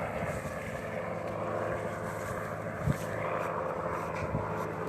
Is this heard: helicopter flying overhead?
yes